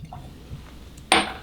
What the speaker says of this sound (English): Nice whiskey gurgle.